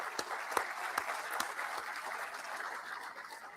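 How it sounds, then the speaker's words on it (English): A crowd at a law enforcement training academy graduation ceremony applauding, a fairly distant, steady wash of clapping with a few sharper nearby claps standing out and gradually fading toward the end. "give yourselves a round of applause for the support that you give our law enforcement"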